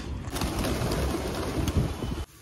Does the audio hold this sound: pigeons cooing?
yes